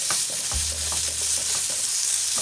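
Garlic pressed and smashed down in a hot frying pan while making garlic noodles, with a steady loud sizzle, a low thud as it is pushed down, and scraping stirs throughout.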